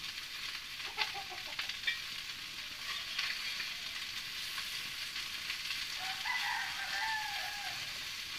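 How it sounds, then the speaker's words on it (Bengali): Freshly caught whole fish from a wetland fry in a pan until reddened for a simple fish curry, a continuous close, crackling sizzle with small pops, while a rooster crows faintly in the background. "এই পাঁচটা আমি এরকম ভাবে লাল লাল করে ভাজি নেবো"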